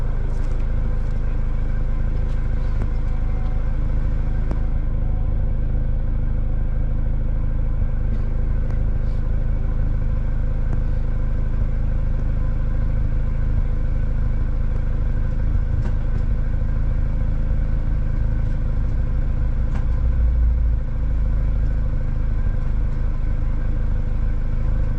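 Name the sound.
Mini Cooper car engine running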